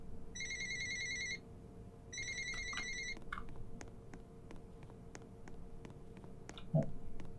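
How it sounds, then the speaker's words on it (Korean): A telephone rings inside the Roblox game Weird Strict Grandma, with two quick electronic ringtone bursts near the start followed by scattered faint clicks and a soft thump. "전화벨 소리에 할머니가 깨시는 거지."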